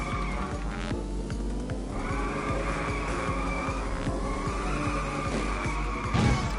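A car drifting in the arcade racing game Inertial Drift, with long, sustained tire squeals that rise and shift in pitch over a loud, steady engine drone and brief throttle flicks.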